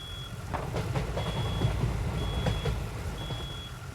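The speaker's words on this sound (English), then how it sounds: "we need to figure out where this alarm is at and get it taken care of" Repeating electronic alarm beeps from a fire alarm in a firefighting video game, sounding in short evenly spaced bursts over a steady low engine-like rumble.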